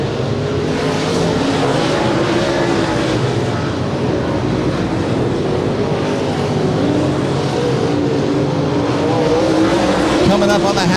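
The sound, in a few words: late model race cars racing at Willamette Speedway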